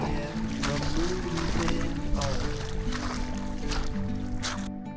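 Rushing river water at a trail crossing in Parque Patagonia, a loud continuous wash with splashing bursts as someone wades through, close and steady throughout.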